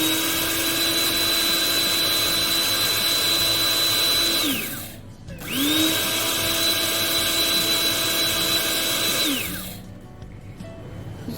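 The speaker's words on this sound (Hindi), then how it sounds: "वही ग्राइंडर जिसमें मैंने ड्राई रोस्ट मसाला पीसा था, उसमें मैं ये 2 टीस्पून के बराबर ज़ीरा डाल दूंगी। इसे मैं ग्राइंड कर लूँगी।" An electric spice grinder, the one used earlier for dry-roasted masala, whirs through cumin seeds in two loud steady bursts of about four seconds each, each winding down with a falling whine.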